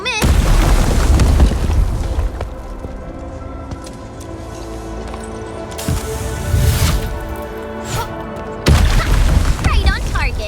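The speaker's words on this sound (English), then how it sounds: "I give that explosion a 10 out of 10." A deep booming explosion in the Arknights Endfield video game, loud and rumbling with a long decaying roar and a second heavy burst near the end, under brief game dialogue.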